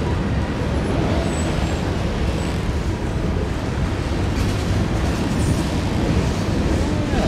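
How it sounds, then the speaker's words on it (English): Heavily loaded coal train rolling past on mainline track near the Allegheny and Portage tunnels, a steady rumbling roar of wheels and cars, continuous and fairly close. "Heavy loaded coal train,"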